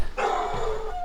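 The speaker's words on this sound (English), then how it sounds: "Good protective dog, I like that." A protective dog barks at a campsite in a ghost town, one loud sustained bark or howl that fills most of the second, close by with no talk over it.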